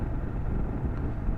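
Steady low wind buffeting a microphone outdoors beside a tall BMW F800GS motorcycle, a continuous rumbling roar filling the whole moment with no speech.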